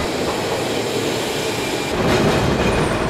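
A metro train rolls past nearby with a loud, steady rush of rail noise and wheel rumble that swells slightly toward the end.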